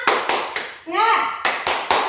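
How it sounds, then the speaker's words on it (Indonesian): Primary school class doing tepuk semangat spirit clapping: sharp, loud claps in a steady rhythm, four at the start and four more after a short pause in which children chant together. "Yuk, sama-sama yuk, tepuk semangat."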